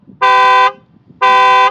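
A Volvo C40 Recharge electric car sounds its locator alarm in two loud, close, identical tonal honks, each about half a second long and separated by a short gap, over faint low background murmur.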